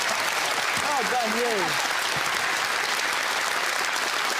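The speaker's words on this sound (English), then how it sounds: "It deserves a round of applause, I think, for sure." Studio audience at a televised quiz show applauding, a continuous loud wash of clapping with a brief spoken voice over it near the start.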